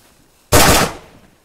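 A single loud, close gunshot in DayZ cracks out of near silence, then fades in a short rumbling tail.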